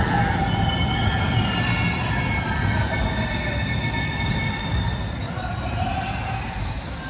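A metro rail train runs late at night, heard from aboard as a loud continuous rumble with high, drawn-out wheel squeals rising and falling over the track noise, and no voices.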